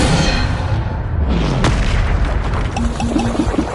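A spell blast from a wizarding-world video game: one loud booming burst with a sharp crack partway through, trailing into a sustained rumbling roar among dense game effects, with no voices.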